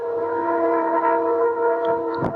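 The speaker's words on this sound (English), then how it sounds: "We can almost feel this train coming past." A loud, sustained train horn blares steadily with a rich chord, and a rumble of the passing train swells near the end.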